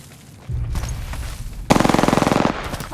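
Burst of rapid automatic gunfire in the video game Apex Legends, a quick rhythmic string of loud close shots lasting under a second, preceded by softer low thumps and game ambience.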